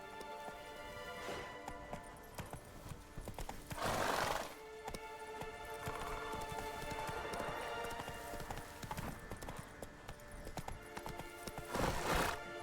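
A horse gallops with rapid, rhythmic hoofbeats in The Witcher 3: Wild Hunt, joined by a couple of loud whinnies and snorts and backed by game music, with no talking.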